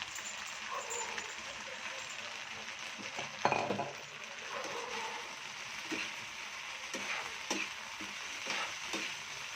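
Gobi manchurian, cauliflower in sauce, gets stirred in a pan, with a steady sizzle, spoon scrapes and light clinks against the metal, close by and without talking.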